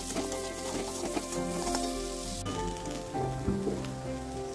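Potatoes with turmeric and salt fry in a kadhai alongside fried eggplant, a continuous dense sizzle close up with light crackling and occasional stirring scrapes.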